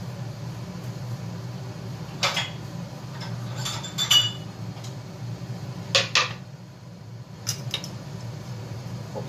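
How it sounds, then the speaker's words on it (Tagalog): A metal pot lid set back onto a pot while chicken gizzards and tofu cook, giving a few light clinks and clatters spread over a low steady hum of cooking in the background. "Balik ko na yung takip."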